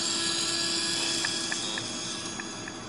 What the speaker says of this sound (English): This is an old coffee maker that's kind of busted, but it still works with a little bit of manipulation.